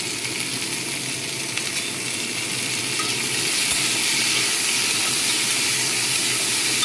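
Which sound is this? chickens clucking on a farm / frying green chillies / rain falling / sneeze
frying green chillies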